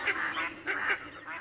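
A duck quacks in three harsh, nasal bursts spaced evenly a moment apart, clear and close against a quiet background.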